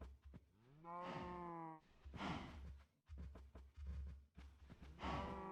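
Cows, some out among trees and others indoors, give a run of four or five long, drawn-out moos in close succession, with short breathy gaps and snorts between, close and clear.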